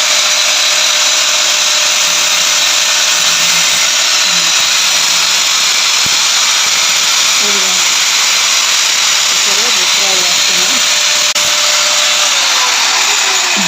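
An iron rod cutting machine runs steadily with a loud, constant motor whine and hum, close by, while voices talk faintly over it.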